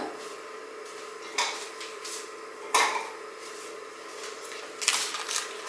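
Knife cutting away surplus pastry dough around a dish, heard as a few quiet scraping clicks and taps against the dish in a calm kitchen, spaced irregularly with soft handling noise between.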